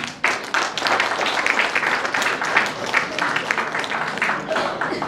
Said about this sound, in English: Please welcome the second group with a huge round of applause.